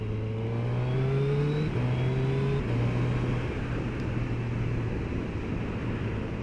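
A 2021 Suzuki Hayabusa accelerates hard, its engine note climbing steadily and dropping at quick shifter upshifts, loud and continuous with rushing wind noise.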